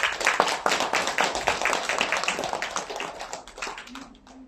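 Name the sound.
applause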